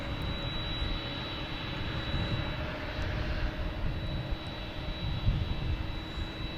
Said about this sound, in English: Behind Mom is a whole bunch of planes waiting to come in.